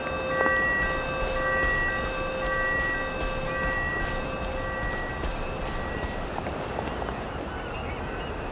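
A train at a station in the video game We Happy Few gives long, sustained horn tones over a continuous rolling rumble of rail cars that fades slightly toward the end.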